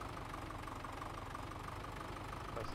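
An old tractor without a cab in a farming video game idles steadily, a low, even, knocking engine drone heard alone at moderate distance.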